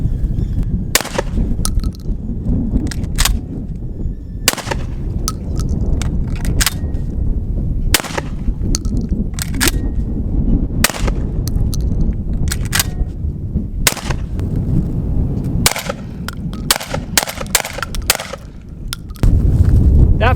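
Beretta pistol fired at a range, many loud sharp gunshots in irregular bursts over twenty seconds, some close together, with other shooters' reports mixed in and no talk.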